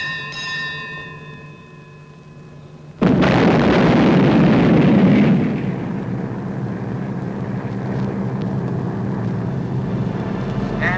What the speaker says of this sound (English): We're now going to fire a rapid group to get their heads well and truly down.